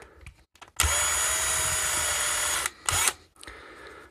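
A drill bores out rivets on a fan-assisted mosquito killer casing, a close, loud whirring burst of about two seconds followed by a short second burst, with quiet handling noises around it.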